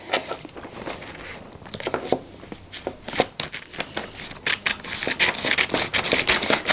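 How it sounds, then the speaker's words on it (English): Christmas presents being wrapped in paper by hand, with close, steady crinkling, rustling and sharp crackles of the sheets, louder toward the end, and no talk. "So as I'm wrapping presents,"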